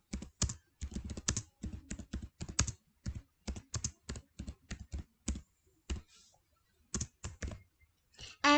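Clicky computer keyboard typing while a question is entered in a Kahoot quiz, in quick irregular bursts of keystrokes with short pauses, close and fairly quiet, with no talking.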